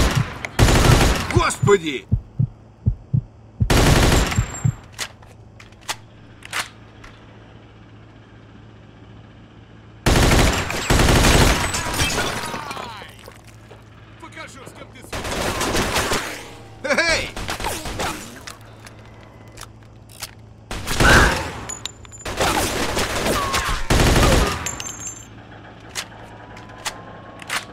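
Machine gun bursts in a Mafia 2 shootout, loud repeated volleys in separate clusters with short gaps between, over low engine rumble, with a voice shouting briefly between bursts.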